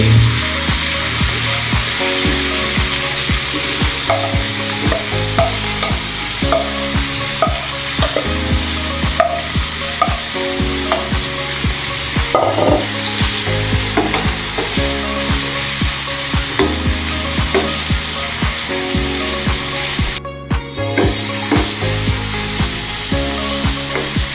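Chayote, carrots and cauliflower sautéing in a pan, a steady loud sizzle with frequent scraping stir strokes and utensil clinks throughout, with no talking.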